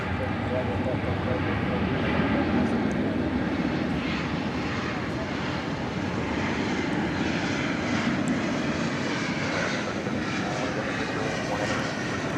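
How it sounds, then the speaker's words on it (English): A Boeing 747 takes off from DFW Airport, its engines producing a loud, steady broadband roar that fills the whole stretch without letup. "our second 747 of the evening. You'll catch a glimpse of it as we follow this flight on its takeoff"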